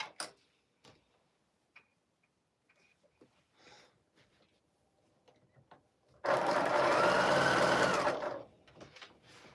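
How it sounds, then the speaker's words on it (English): Sewing machine stitches blue quilt strips in a loud, rapid whirring burst of about two seconds, preceded by quiet fabric handling and light ticks. "We're going to put these blues in. We're sewing them in."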